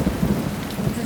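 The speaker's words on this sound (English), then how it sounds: "when it's raining outside, like it is now" Steady rain pours down outdoors at night, a dense, even wash of drops that stays loud and constant with no voices.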